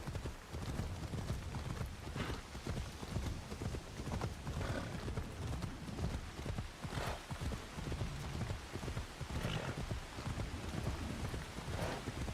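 Horse hooves clip-clop in Assassin's Creed Shadows, a steady run of hoofbeats set against a constant rain-like wash of ambience, with faint whinnies for the whole stretch.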